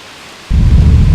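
A thunderstorm breaks in with a sudden loud, deep crack of thunder over a continuous hiss of rain, following a brief quiet rain-like wash.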